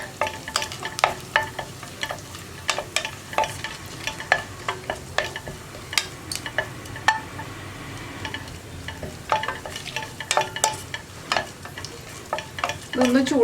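Whole spices frying and sizzling in hot sunflower oil for a kadala (chickpea) curry, with steady crackle and repeated sharp pops and stirring scrapes throughout, close and fairly loud, no talking.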